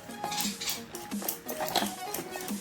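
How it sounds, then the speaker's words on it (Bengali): Besan batter with baking soda being mixed for pumpkin pakora, a spoon or whisk clinking and scraping against a bowl in quick, uneven strokes, close and moderately loud with no talking. "খুব ভালো মতো করে মিক্স করে নিই।"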